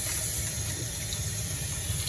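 Cold tap water runs steadily into a kitchen sink while shrimp and other seafood are rinsed for a seafood boil, a close, constant gushing splash with no pauses.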